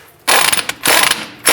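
A ratchet clicks loudly and close in quick bursts while loosening the lower clevis fork bolt on a 2005-10 Jeep Grand Cherokee during CV axle replacement.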